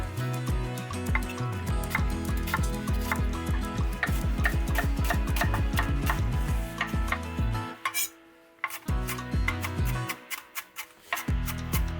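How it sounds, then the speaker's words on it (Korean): Shallots and garlic being finely minced with a knife for pork chops, heard as rapid, regular tapping of the blade on a cutting board, close and fairly loud, with a brief pause midway before the chopping resumes. "폭찹에 넣을 샬롯과 마늘은 잘게 다져줍니다."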